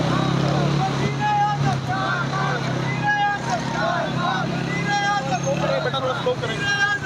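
A motorbike rolls slowly through a huge Pakistan Tehreek-e-Insaf political rally at Zaman Park, Lahore, its steady engine drone mixed with crowd chatter and shouting, while someone speaks close by over the noise.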